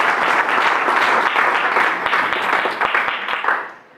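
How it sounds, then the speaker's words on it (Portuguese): Loud, dense applause from an audience at a book launch celebrating the anniversary of a local band, sustained for about three and a half seconds before quickly dying away. "Acho que merecem mais uma salva de palmas."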